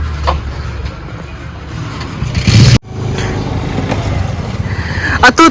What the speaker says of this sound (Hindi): देखो स्कूटी लेके आ रही है अपनी झूठी